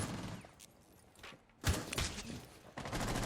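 Gunfire in Rainbow Six Siege during a competitive match, sharp bursts of shots arriving in clusters with quieter gaps between, fairly faint and distant.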